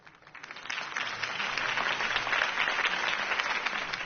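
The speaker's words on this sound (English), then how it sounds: "If only Mr. Wayne, my campaign's largest backer, could have heard that applause" Crowd applause at a campaign rally in the video game Batman The Telltale Series, swelling into steady dense clapping that holds loud for several seconds.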